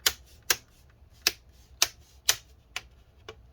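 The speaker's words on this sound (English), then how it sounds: "We're gonna now just click all of this back into place." Sharp plastic clicks from the bezel of a Dell Inspiron 15 3567 laptop being pressed back into place, six or seven distinct snaps spaced about half a second apart, close and crisp with quiet gaps between.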